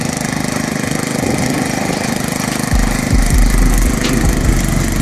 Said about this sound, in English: we're going to go ahead and fill it back in and get on the rototiller